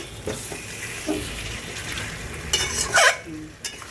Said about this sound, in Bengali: না, এবার নাড়া দিতে হবে।